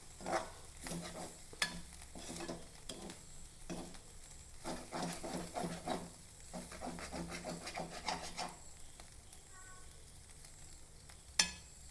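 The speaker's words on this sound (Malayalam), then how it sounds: "ഒരല്പം കറിവേപ്പില ഇട്ട് കൊടുക്കാം നന്നായിട്ട് ഇളക്കാം" Curry being stirred in a pan with curry leaves and ground masala added, giving soft repeated scraping strokes over a faint sizzle, steady and close, with no talking.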